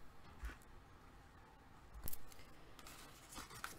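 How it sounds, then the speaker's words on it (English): Paper cutter slicing a triangle off the tapered top of album paper, giving a few faint, brief cutting strokes in a quiet room. "just put it in your cutter and cut that triangle off"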